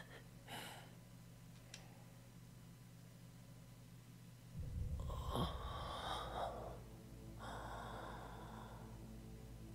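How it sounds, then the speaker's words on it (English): Heavy breathing from the Steins;Gate 0 visual novel comes in a few sharp gasps and breaths, faint at first and then louder after a soft hiss, with short pauses between them. "Heavy breathing intensifies."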